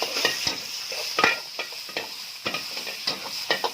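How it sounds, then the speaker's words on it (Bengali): Chicken pieces frying in a little oil for spring rolls at a fast-food stall, a bright steady sizzle with quick scraping stirs of a spatula against the pan, close up and alone. "হালকা একটু তেল দিয়ে চিকেনটাকে ছাড়লাম"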